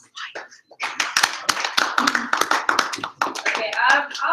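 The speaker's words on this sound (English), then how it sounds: "Sad claps." Sparse, scattered claps from a small group at a board of directors meeting, a few uneven hand claps with light talking and laughter mixed in.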